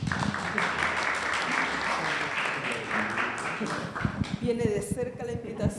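An audience claps after a speaker is introduced at a book presentation, a full, steady wash of many hands that thins toward the end as a voice begins talking over it.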